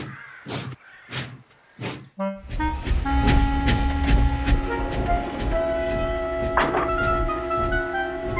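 A model breakdown train on rails starts up after three sharp crow caws, then runs with a steady rumbling clatter and sustained whistle-like tones, loud and near for the rest of the stretch.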